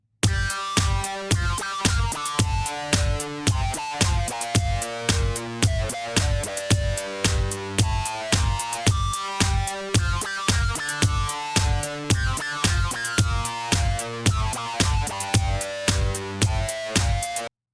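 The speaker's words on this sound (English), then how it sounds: "so I'm actually going to mess with the cutoff a little bit and watch what it does to the sound." The Caustic app plays a harsh synth loop while its filter cutoff is swept. The dense, pulsing riff runs continuously and loud, with its brightness shifting over the pass, and no one talks over it.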